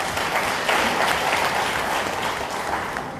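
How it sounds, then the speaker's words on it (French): A crowd applauds steadily throughout a political address in Mali, with dense, continuous clapping close by and no voices rising above it. "Je vous prie d'applaudir cela."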